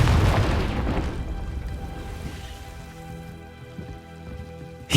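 Confringo spell blast exploding in Hogwarts Legacy: a loud burst at the onset decays into a rumbling, crackling tail, then settles into quiet ambient hum.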